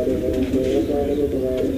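Pigeons coo in a steady, rounded stream, close and fairly loud, at a Punjabi pigeon-keeping loft where prized birds are shown.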